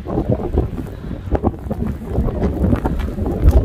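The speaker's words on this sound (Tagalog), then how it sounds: "Bago lang grabe yung hangin." Strong winter wind buffets and rumbles steadily in gusts, a close and loud roar with no talk over it.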